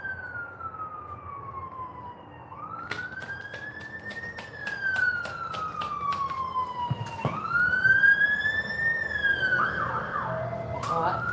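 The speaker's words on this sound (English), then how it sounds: "Alright, now fire brigade's gone past." A fire engine siren wails through repeated rising and falling sweeps, moderately distant at first, then louder as it passes along the street, with traffic rumble beneath.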